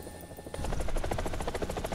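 A Tiger UHT attack helicopter in the War Thunder video game starts up after a quiet half-second, then beats out a loud, rapid, steady chop of rotor blades with a deep engine rumble underneath.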